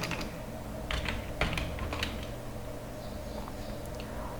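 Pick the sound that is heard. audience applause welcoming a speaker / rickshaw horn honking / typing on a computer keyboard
typing on a computer keyboard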